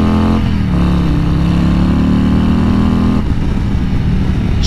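A 2020 Harley-Davidson CVO Road Glide rolls along at slow speed, its big V-twin loud and close, rising through a short rev before settling back to a low, uneven rumble.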